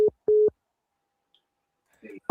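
After a caller's line drops during a call-in show, a busy signal sounds: two short identical beeps in quick succession, followed by silence and a brief faint voice at the end.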